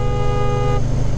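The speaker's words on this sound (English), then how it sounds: "Nice dual horn note." The dual horn of a 1992 Yamaha Virago 750 motorcycle blares in one loud, steady two-tone blast that stops abruptly after less than a second, with engine rumble continuing underneath.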